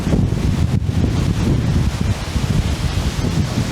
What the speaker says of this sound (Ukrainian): просто шторм як шторм